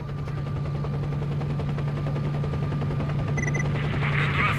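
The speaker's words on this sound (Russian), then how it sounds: "Откуда здесь наша вертушка?" A helicopter flies overhead in the video game S.T.A.L.K.E.R., its rotor making a steady, loud droning thrum that holds without a break and grows slightly brighter toward the end.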